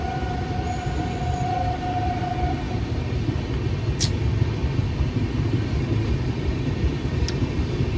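Steady rumble and clatter from inside a moving train, loud and continuous for the whole stretch, with a faint high squeal early on and a couple of brief sharp metallic ticks.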